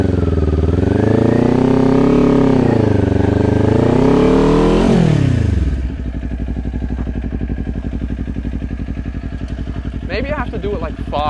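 Kawasaki Ninja 400 sport bike engine revving hard during a burnout attempt, a loud sustained rising and falling rev for about five seconds, then settling into a steady idle rumble with a brief squeal near the end.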